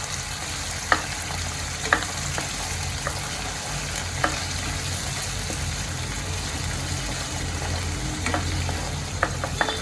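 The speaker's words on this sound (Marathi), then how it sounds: "आता टमाट्याची प्युरी घालून घेते आणि ह्यानं चांगलं मी शिजू देते एकत्र करून" Tomato puree and ground spice paste cook together in a pan, giving a loud continuous sizzle and bubble with a few sharp utensil taps on the metal.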